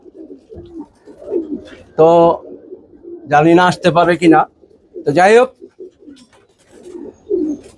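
Pigeons coo in low, repeated throaty calls near a tin roof where the birds have settled, including a young pigeon. Someone talks intermittently over and between the calls.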